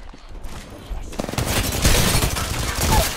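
Rapid gunfire in the battle-royale shooter Apex Legends builds from sparse shots into a dense, loud stretch of overlapping bursts and impacts, with voices talking over it.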